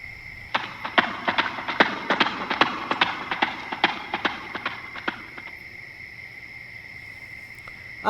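A horse trotting sound effect plays on a spooky night: a steady run of sharp clip-clop hoofbeats about every quarter second for five seconds, then it stops. Loud insect chirping goes on underneath throughout.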